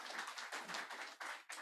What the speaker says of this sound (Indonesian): Tepuk tangan bagi Yesus dulu.